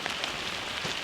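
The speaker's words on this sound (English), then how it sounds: "It's starting to rain a bunch." Rain patters on a shelter in the Maine wilderness, a close, continuous hiss of drops with a few slightly louder taps, steady and alone.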